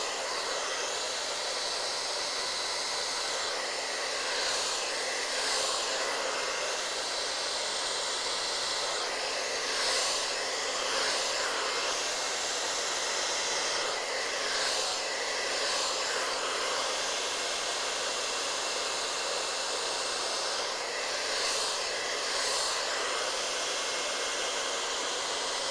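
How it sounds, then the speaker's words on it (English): A handheld blow dryer runs on high heat and medium air, a constant loud whooshing hiss with a steady motor whine, pulsing slightly as it moves through hair for about twenty-five seconds. "I'm gonna kick on the blow dryer here, high heat, medium air"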